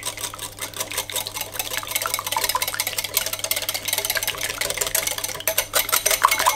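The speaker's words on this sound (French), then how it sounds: "Et je mélange." Brown sugar, egg and melted margarine being mixed in a bowl for a light Normandy cake, a steady, close, busy whirring and scraping that runs without pause through the whole stretch with no talk.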